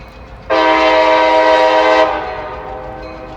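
A Paducah and Louisville locomotive sounds its horn at a nighttime crossing: one loud, sustained chord blast of about a second and a half, close and clear, then fading into quiet rumble.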